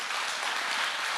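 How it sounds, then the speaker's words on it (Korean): A church congregation applauds in place of prayer, a dense, steady wash of many hands clapping together, even and sustained throughout. "박수로 기도를 대신하겠습니다."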